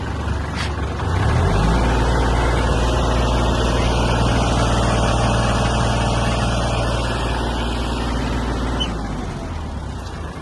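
A Kubota GL-25 mini tractor runs with its rotary tiller engaged. The engine rises into a loud, steady rev that holds and then eases slightly toward the end.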